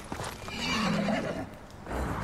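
A horse whinnies in the video game Ghost of Tsushima, a loud rising and falling neigh lasting about a second, with hoof clip-clops and game ambience around it.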